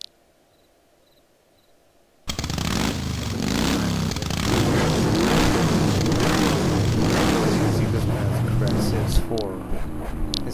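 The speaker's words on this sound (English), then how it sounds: "It's got the tuner rev." Sport motorcycle in a video game with a tuner engine note, starting abruptly after near silence and holding a loud, buzzy, wavering rev with rises and dips for the rest of the clip.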